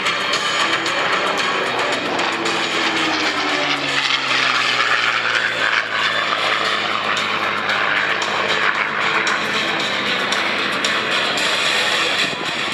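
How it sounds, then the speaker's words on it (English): A Second World War warplane powered by a Merlin engine flies past at an airshow, its steady propeller drone swelling and then holding loud and continuous throughout, with no voices over it. "There's nothing sweeter than that Merlin engine."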